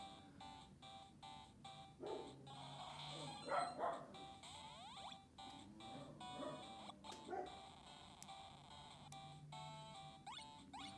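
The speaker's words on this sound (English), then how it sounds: "Don't mind my dog barking in the background" A dog barks repeatedly in the background of a room, sharp faint yips and barks spaced irregularly, alongside whimpering and electronic game chimes.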